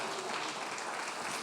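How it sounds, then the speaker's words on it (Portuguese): A church congregation claps their hands together in steady, dense applause that fills the room at an even level from start to finish. "Bata as palmas para ele"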